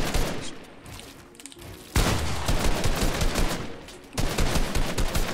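Video game gunfire in rapid continuous bursts, loud and close, with a brief lull before heavy firing resumes and a short break before another burst.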